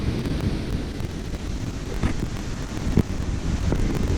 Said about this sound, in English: It's so windy today.